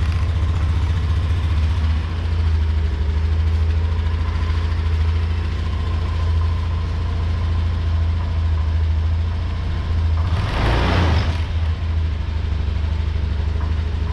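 A Honda BeAT scooter engine idling steadily as it warms up, a low continuous hum running close and even throughout, with a brief broadband rush of noise near the end.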